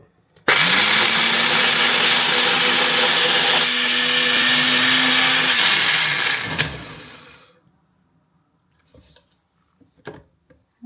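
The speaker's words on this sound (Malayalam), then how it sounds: "അപ്പം നമുക്കിത് നന്നായിട്ടൊന്ന് അരച്ചെടുക്കാം" A mixer grinder whirs loudly with a strained, high motor whine as it grinds spices, including cinnamon, with water for Kottayam-style kappa biryani. It runs for about six seconds, winds down, then a few light clicks follow from handling the jar.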